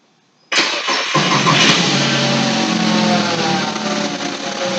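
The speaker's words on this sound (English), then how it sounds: "And let me start the car." A VW 2.5L engine with lean codes and suspected misfire cranks briefly and catches, then settles into a steady, fairly loud idle close by.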